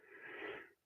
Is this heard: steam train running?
no